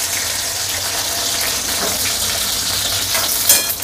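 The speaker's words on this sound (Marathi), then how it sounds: "भेंडी फ्राय करायची आहेत आणि त्याच्यामध्ये बोंबील सोडायचे आहेत।" Okra shallow-frying in oil for a fish and okra curry gives a loud, dense, close sizzle that carries on steadily, with a brief clink near the end.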